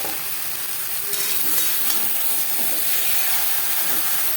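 Marinated chicken hits a pan of onion and garlic, giving a steady, fairly faint hiss and sizzle that runs unbroken with no voices over it.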